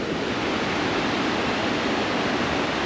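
Moving water in a Smoky Mountains stream rushes in a steady, dense broadband hiss, continuous and fairly soft, with no voices.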